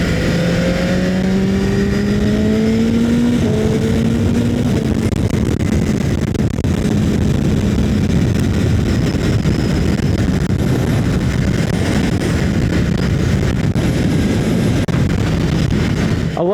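A new 2026 BMW motorcycle on its break-in ride pulls away, its engine rising in pitch through a couple of quick gear shifts in the first few seconds, then a loud, steady rush of wind covers the rest of the ride.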